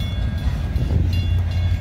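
Norfolk Southern freight train 31M hauling past a tied-down train, a loud, close, steady low rumble and rolling rattle of railcars sustained through the brief moment with no voices.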